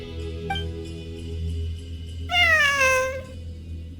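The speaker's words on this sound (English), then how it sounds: "It really is a cat." A cat in the video game Genshin Impact lets out one clear, drawn-out meow that rises and then falls, close and distinct over steady, quiet background music.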